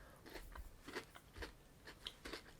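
A Terry's Chocolate Orange biscuit bar is bitten and chewed, giving quiet repeated crunches at an irregular pace, close up and faint, with no talking.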